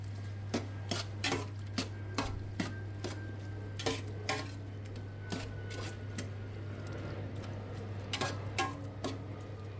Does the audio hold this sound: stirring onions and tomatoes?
yes